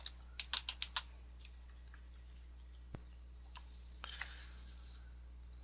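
A short burst of keystrokes on a computer keyboard, a quick run of crisp clicks near the start, then a few sparse taps and soft clicks in a quiet room.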